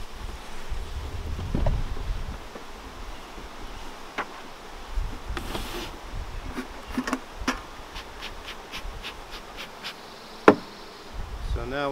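Honey bees buzz around a hive, a constant droning hum with a few nearer bees flying past and occasional light knocks.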